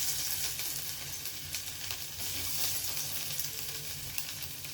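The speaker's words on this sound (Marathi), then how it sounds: "तेल तापलेलं इथे, या तेलात आपण लसूण घालून घेऊया" Garlic sizzling in hot oil in a pan while cooking crispy veg Manchurian, a steady close frying hiss with small crackling pops throughout, no talking.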